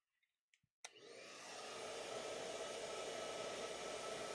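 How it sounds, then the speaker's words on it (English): A blow dryer switches on after a few soft clicks and taps, then runs as a steady, loud whoosh of blowing air that builds a little and holds through to the end. "I'm going to take a blow dryer"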